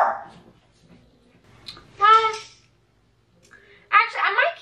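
Dogs bark indoors in two sharp bursts a couple of seconds apart, fairly close and loud, with some quiet rustling between.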